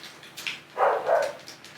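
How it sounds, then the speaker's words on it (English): A dog barks somewhere in the background of a room during a Transformers Beast Wars toy review, two or three short muffled yaps over a quiet backdrop. "for those of you who can hear a dog barking in the background, apologies for that"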